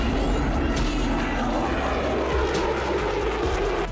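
Jet aircraft engine roar, as from US military fighter and attack planes, a loud steady broadband rumble and hiss filling the whole stretch without a break.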